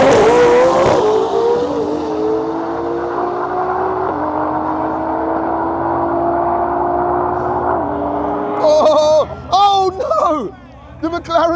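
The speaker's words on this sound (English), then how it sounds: "we have a GTR versus a McLaren 765" A Nissan GTR and a McLaren 765 launch side by side in a dual clutch drag race, engines screaming through rising gear-change sweeps as they pull away, followed by loud crowd cheering and shouting.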